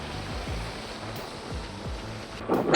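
Waterfalls pour down both sides of Savlya Ghat on a crowded trek, a steady broadband rush of falling water with a few dull low thumps and a louder burst near the end.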